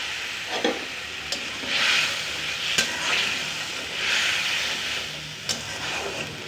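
Egg biryani in a pot is stirred with spices, eggs and fried potatoes, a close scraping, sizzling stir in repeated strokes punctuated by a few sharp clicks of the spoon against the pot.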